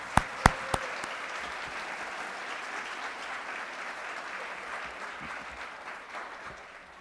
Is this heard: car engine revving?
no